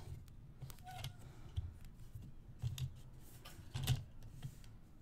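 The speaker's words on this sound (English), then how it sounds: "So if I try to cut this one at 1 by 1, let me show you what happens." Scissors cut small pieces of patchwork fabric, giving a few quiet, close snips and clicks spread out over a low steady background hum.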